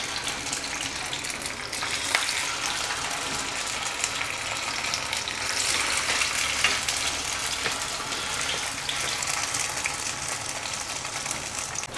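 A second batch of four Shanghai lumpia frying in a pan, giving a dense, steady sizzle that runs unbroken and fairly loud throughout, with no voices.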